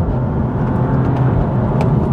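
A BMW M235i turbo engine pulls hard through an upshift, a loud steady low roar heard from inside the car with no voices.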